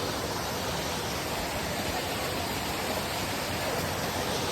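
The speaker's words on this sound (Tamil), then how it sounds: "இந்த ஃபால்ஸை பார்த்தீங்களா? வேற லெவலில் இருக்கு." The waterfall at Palkulam Falls gives a steady, dense rushing roar of falling water that stays even throughout, with no voices heard.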